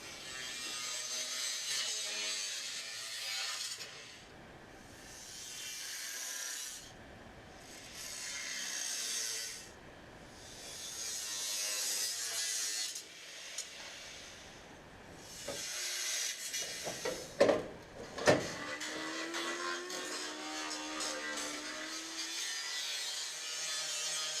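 Metal panel for a Sport Quattro replica chassis being cut in a workshop, a steady rasping cut in long sustained passes with brief pauses between them, then a couple of sharp clanks near the end.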